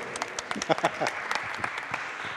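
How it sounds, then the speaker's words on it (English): Scattered audience clapping during a coaching session on split vision exercises, a brief burst of sharp individual claps under someone speaking and laughing. "you are applauding now"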